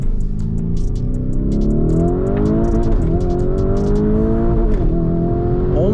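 A Nissan GT-R engine revving hard toward the red line, loud and close, its pitch climbing steadily through the gears with brief dips between pulls, heard from inside the car.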